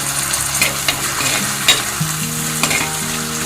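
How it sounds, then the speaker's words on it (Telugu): Three green chillies, slit lengthwise, fry in hot oil in a pan with a continuous crackling sizzle, broken by sharp clinks and scrapes of a spoon stirring, loud and close, with no talking. "ఇవి కొద్దిగా వేగాలి"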